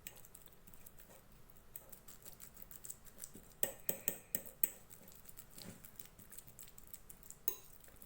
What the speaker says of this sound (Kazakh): Шанышқымен езіп аламыз.